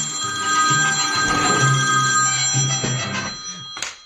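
A telephone rings loudly for a radio phone-in call on a late-night show, the bell sounding over a bed of music with a sharp click at the end.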